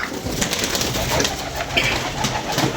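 A pigeon coos amid a dense wash of steady background noise, the calls soft and partly buried, with no clear speech over them.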